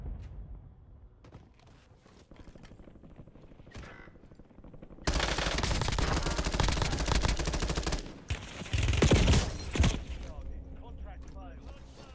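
Gunfire in the video game Warzone: loud sustained bursts of automatic fire that fill the middle of the clip, with quieter game sounds and scattered noises before and after.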